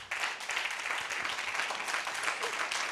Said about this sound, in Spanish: yo voy a pedir hoy un aplauso por Andrea